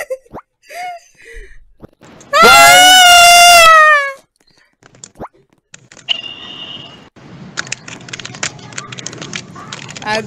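A person lets out a loud, sustained scream lasting over a second while playing the Roblox game Adopt Me, followed by scattered clicks and game noise.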